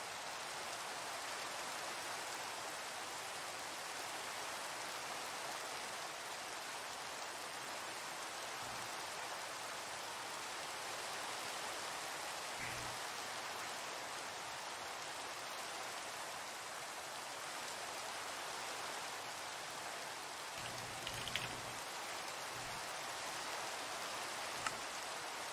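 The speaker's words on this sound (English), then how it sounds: "Yay, rain." Steady Minecraft rain hisses as a continuous, even wash of noise for the whole stretch, fairly faint, with a few soft low thumps now and then.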